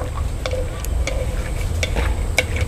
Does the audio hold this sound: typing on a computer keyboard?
no